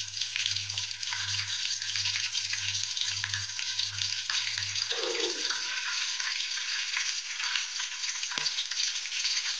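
Onion fries in an electric rice cooker for a Hyderabadi mutton curry, giving a steady, close hiss and crackle with no voices. A low pulsing hum sits under it for the first few seconds.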